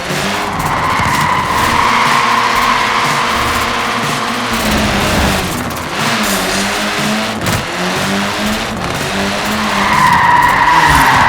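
Tires on a Mini skid and squeal in Forza Horizon 4, the engine revving loudly underneath as the little car slides, with the screech easing mid-way before swelling again toward the end.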